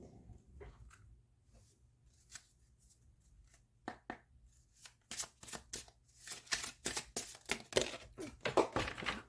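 A deck of crystal oracle cards is shuffled by hand, with sparse soft riffles at first building into a dense run of crisp, close card flutters and snaps toward the end.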